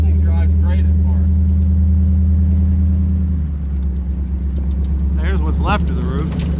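A roofless 1960 Impala with an LS engine swap idles with a deep, steady rumble, while voices talk over it near the end.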